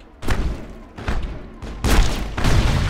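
Grenade blasts in the video game Mass Effect land as four heavy booms about half a second apart, each a short thudding burst with a quick decay, the last two louder.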